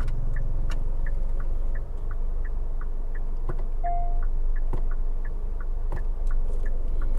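A Hyundai Stargazer with a 1500 IVT engine drives along, its low engine and road rumble steady inside the cabin, with a regular turn-signal-like ticking repeating throughout and a few faint clicks and knocks.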